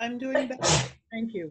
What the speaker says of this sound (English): Somebody sneezes and you have no idea who.